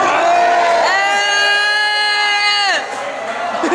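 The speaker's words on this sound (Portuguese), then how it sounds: "Meu irmão deu um grito" At a New Year's Eve show, a man lets out one long, loud, sustained shout that holds steady for about two seconds over a noisy, cheering crowd.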